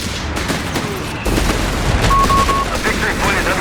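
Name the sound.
artillery barrage and gunfire in video game Company of Heroes 3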